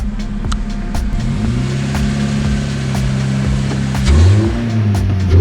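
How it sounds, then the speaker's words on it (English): A modified Honda Civic Mk8 idles and then creeps up onto ramps, its engine drone steady and loud before a short rise in revs near the end. "the first thing we want to do is get the car set up on them ramps"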